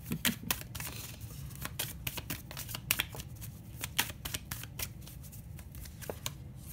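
Tarot cards being shuffled and drawn by hand, with rapid, close riffling flutters and crisp slaps repeating steadily throughout, quiet and alone without speech.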